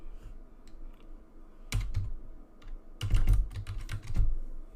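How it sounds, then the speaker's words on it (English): Fingers typing on a computer keyboard to enter text in Cricut Design Space, two quick bursts of close, crisp key clicks with short pauses between them and no talk. "we're going to type in"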